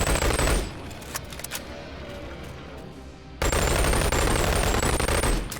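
An M16 rifle fires test shots in a video game: a loud burst of rapid shots at the start, a quieter stretch with a few scattered pops, then sustained rapid fire resumes near the end.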